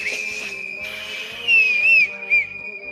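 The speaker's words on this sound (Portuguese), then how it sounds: "Esse apito não tá bom. Toca para mim esse apito." A whistle is blown in short, wavering toots, a thin steady tone with a few louder bursts over a faint background of rhythmic music.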